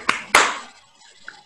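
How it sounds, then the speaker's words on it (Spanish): Two sharp hand claps ring out close and loud, a short pause between them, then fade into near silence. "Así que un aplauso virtual de parte de todos nosotros"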